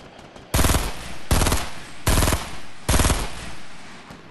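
Gunfire in Fortnite: four loud bursts of rapid automatic fire spaced about three-quarters of a second apart, each a short rattling volley standing alone over a quiet background.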